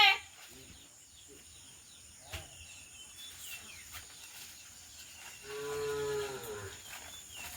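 Cows at a village homestead in the Sundarbans low with a drawn-out moo near the end, over a faint outdoor hiss with a few distant bird calls and brief bits of voice.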